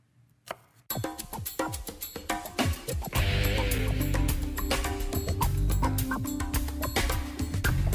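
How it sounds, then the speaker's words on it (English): Sharp knife strokes mincing apples on a cutting board in a home kitchen, a quick run of close, uneven taps with steady background kitchen noise, no speech. "I'm just going to mince up these apples"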